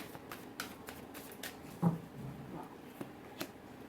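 Tarot cards being shuffled by hand, heard as faint, soft riffling and scattered light taps in a quiet room, with no talking.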